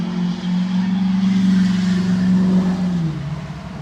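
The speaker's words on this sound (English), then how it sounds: "all these work trucks racing and stuff" Work trucks race past, a loud engine drone rising and holding steady as they rev, then sinking in pitch near the end as they pull away.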